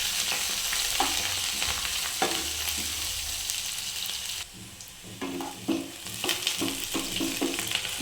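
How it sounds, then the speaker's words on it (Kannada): Onions fry in a pan with a steady close sizzle, interrupted by occasional stirring scrapes and a brief dip in the hiss partway through before it picks up again. "ಈಗ ನೀರುಳ್ಳಿ ಚೆನ್ನಾಗಿ ಫ್ರೈ ಮಾಡ್ಕೊಳ್ಳಿ"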